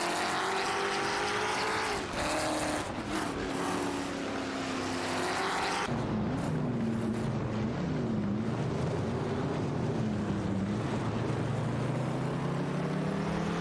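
Race cars in a racing video game, including Dodge Charger Super B 71 models, roar around a track. Loud, continuous engine whine shifts pitch through gear changes and passes, with no talking.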